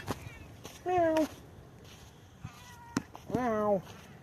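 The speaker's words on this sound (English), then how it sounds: "Why are you meowing like that?" A cat gives two drawn-out, plaintive meows close by, separated by a short pause with faint clicks and rustling.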